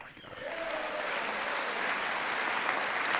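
Audience in the chamber of Congress applauding during a presidential address, a dense sustained wash of clapping that holds steady for the whole stretch, with a brief voice tone early on beneath it.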